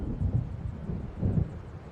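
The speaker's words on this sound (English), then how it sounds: "It seems there's a storm coming." Low, rolling thunder from an approaching storm in Alan Wake Remastered, two soft swells of rumble over a steady windy wash, moderately loud with no voices.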